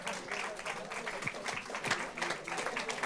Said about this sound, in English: Let's give Carrie another round of applause.